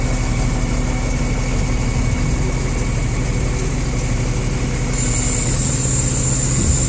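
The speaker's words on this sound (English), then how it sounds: "That's what the truck looks like in action dumping." Diesel engine of a Palfinger 204 roll-off truck runs steadily throughout while dumping a dumpster, a loud continuous low rumble with hydraulic whine, the pitch shifting slightly near the end, no voices.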